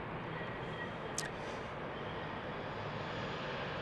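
At Salt Lake City airport, an airplane takes off from runway 34 right, a steady broad engine roar held at a distance for a few seconds, fairly faint and unbroken.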